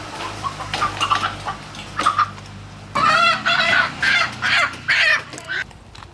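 Native country chickens squawk and cluck nearby in a series of loud, harsh calls, with quieter clucking before the burst.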